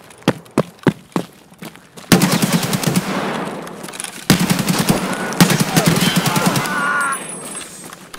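An AK rifle fires in Escape From Tarkov: several sharp, separate shots ring out first, then a long, loud stretch of rapid automatic fire and its echoing clatter.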